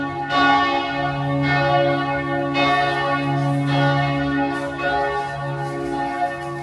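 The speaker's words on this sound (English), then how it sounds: "it's pretty loud when they start ringing the bells" Church bells in Budapest ring out in repeated, overlapping strikes, loud and resonant, with a long ringing hum sustained between each toll.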